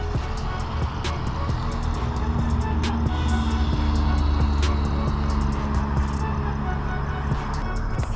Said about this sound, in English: Car coming. Come on, get out the road.